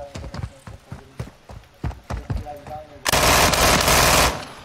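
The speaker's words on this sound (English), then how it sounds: "I shot at him, but he didn't die." Rapid gunfire from Call of Duty MWIII, a run of sharp close shots, then a dense, loud roar of sustained fire in the last second and a half, with voices talking over parts of it.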